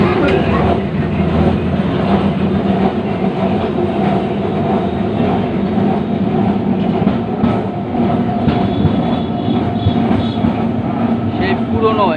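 An old Kolkata tram runs between Dharmatala and Gariahat, giving a close, loud, unbroken rattling rumble of wheels on track throughout.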